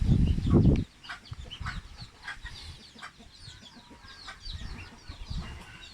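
Young domestic ducks, fifteen of them, call in a farmyard flooded by a downpour, with a loud burst of quacking at the start followed by softer, scattered calls.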